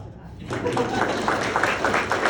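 Audience applause at a ribbon cutting for the ToyBurg Learning Commons, starting after a brief quiet moment and rising into steady, dense clapping from a crowd that continues to the end.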